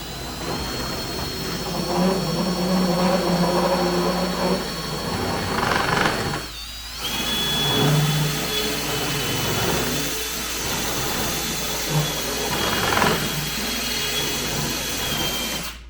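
Power tool reaming out a hole on a 1987 Suzuki LT300E ATV during fuel system and rear brake repair, a steady whirring drone running throughout with brief dips and restarts, close and fairly loud.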